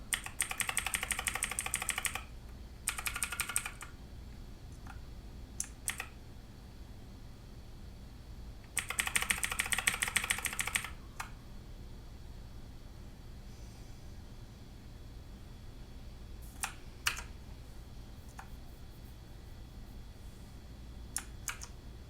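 Mechanical Eagle Z-77 budget RGB gaming keyboard being typed on in two dense bursts of rapid key clicks, then scattered single keystrokes across a quiet room, close and crisp with no talking.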